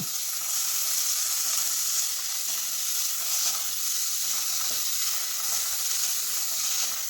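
Onion, green chilli, tomato and crushed ginger-garlic sizzle steadily in a pan over medium heat for a horse gram curry, a constant loud hiss with faint stirring and no voices.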